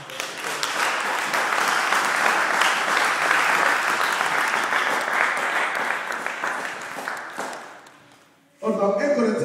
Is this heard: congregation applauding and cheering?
yes